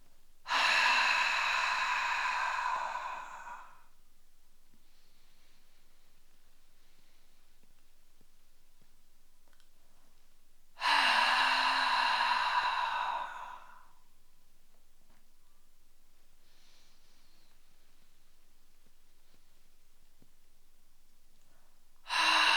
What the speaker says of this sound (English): Continue keeping the inhale soft, exhale long.